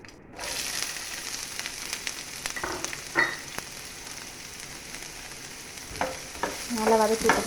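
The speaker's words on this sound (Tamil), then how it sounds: "நல்லா வதக்கி விட்டுக்கோங்க. வெங்காயம் கொஞ்சம் நல்லாவே வதங்கணும்." Chopped large onions sizzle steadily in a hot pan with mustard seeds and curry leaves, with occasional scraping and stirring clatter, the frying growing louder toward the end.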